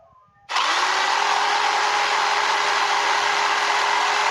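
A Piranha scroll saw cuts thin chipboard, starting abruptly and then holding a loud, steady high-pitched buzz with no pauses.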